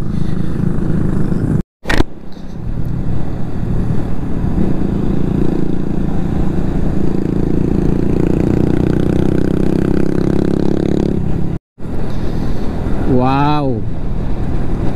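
Motorcycles travel along a fog-bound road near Infanta, Quezon, with a close, continuous engine drone. The drone cuts out briefly twice, and a wavering tone near the end suggests a passing vehicle.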